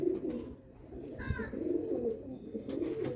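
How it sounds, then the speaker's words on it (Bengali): A Madrasi pigeon of Bengal line cooing close by, with low, throaty repeated coos rolling through the clip and a brief higher chirp in the middle. "এটা খুব ভালো ব্লাড লাইনের পায়রা।"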